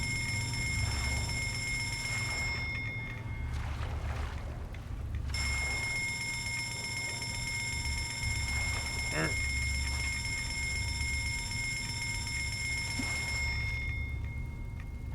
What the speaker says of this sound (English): That fucking bell.